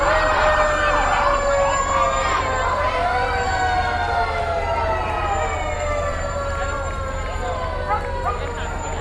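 Brand-new fire engine 22 from Osceola Township sounds its siren in a Fourth of July parade in Brighton, Michigan, a rising and falling wail repeated over the full stretch, loud and close, above a low engine drone and crowd noise.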